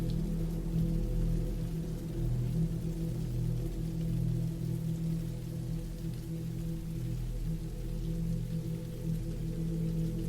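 Steady rain falls continuously on surfaces with an even, dense patter and a low rumbling undertone, unbroken and without voices.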